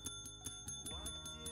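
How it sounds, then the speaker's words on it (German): A Minecraft video game doorbell ringing in quick repeated chimes, about eight bright evenly spaced tones, with a faint low murmur beneath. "Hast du die Klingel gedrückt?"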